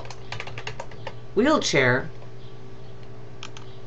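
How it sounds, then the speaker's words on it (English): Keystrokes on a computer keyboard while a search keyword is entered, a quick run of light clicks before and after a short burst of speech, fairly close and moderate in level. "just by typing in a keyword, say for example"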